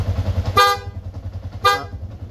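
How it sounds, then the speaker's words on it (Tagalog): A rewired Yamaha Sniper 150 version 2 motorcycle horn gives two short, loud, bright honks about a second apart over the steady idle of the bike. "Loud horn"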